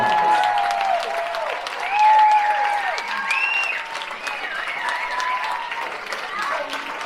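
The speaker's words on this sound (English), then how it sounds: "Let's give them a standing ovation" Standing ovation for the legendary Otis Williams of the Temptations at a Broadway in Detroit event, sustained crowd applause filling the room with cheering voices over it throughout.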